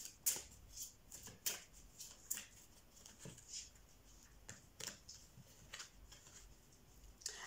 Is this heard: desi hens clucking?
no